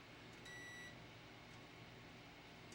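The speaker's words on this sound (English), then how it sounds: "you're just beeping because I'm touching that metal plate" A multimeter gives a brief continuity-test beep near the start while a PlayStation 2 is being repaired. The tone is faint and high, sitting over a low, steady background hum with no talking.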